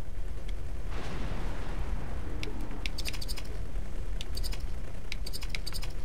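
A station module explodes in the space game X4: Foundations with a deep rumbling boom over a constant low roar, while sharp metallic pings and crackles scatter above it.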